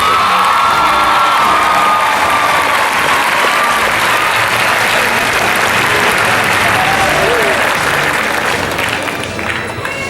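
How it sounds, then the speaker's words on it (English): Graduation ceremony audience applauds and cheers for the parents and guardians, a loud, dense and steady wall of clapping with whoops and shouts throughout, easing slightly at the end. "a round of applause for all the parents and guardians who have raised and guided these students"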